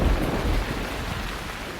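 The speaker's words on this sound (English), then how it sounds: "One day, a violent storm came across the valley." Thunderstorm in a mountain valley, with heavy, steady rain and a low rumble of thunder filling the background throughout, loud and continuous with no voices.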